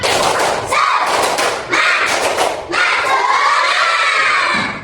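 Third-grade schoolchildren in an elementary classroom perform a loud group spirit clapping chant, bursts of shouting voices and claps in three waves with brief pauses between.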